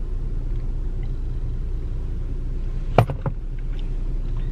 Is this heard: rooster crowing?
no